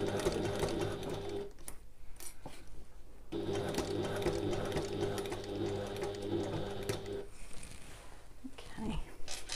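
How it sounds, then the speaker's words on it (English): A sewing machine stitches fabric together with bag webbing, running in sustained close mechanical bursts with short pauses between passes, and soft handling noises in the quieter gaps. "I'm going to carry on sewing round."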